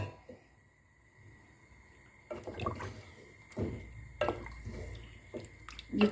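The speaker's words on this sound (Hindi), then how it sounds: "इसमें थोड़ी सी छोलों में कसर है तो मैं इतना पानी डालूँगी" Water poured in a few short splashing bursts into a pot of chicken and chickpea curry, close by, with quiet pauses between pours.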